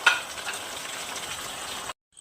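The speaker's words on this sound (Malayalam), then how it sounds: "ചിക്കൻ പൊരിച്ചെടുക്കണം." Chicken frying in hot oil in a pan, giving a steady, close crackling sizzle that runs for about two seconds and then cuts off abruptly into silence.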